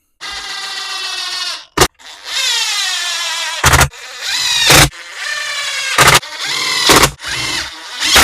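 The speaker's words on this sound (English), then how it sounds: "We'll get these screws in to hold it in place." A power driver whirs in repeated bursts, driving screws into the housing of an Echo leaf blower, with short sharp clicks and pauses between the motor runs, close and loud with no talk.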